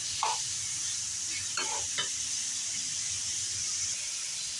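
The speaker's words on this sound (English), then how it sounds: "saute this really good, make sure the meat's cooked good" Meat sautés in a pan for Filipino-style monggo, with a faint, even sizzle and a few short clinks and scrapes of a spoon against the pan.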